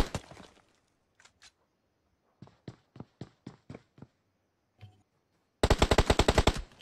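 Gunfire from PUBG Mobile: scattered single shots, then a short run of evenly spaced shots and a loud closing burst of rapid automatic fire, with no talk.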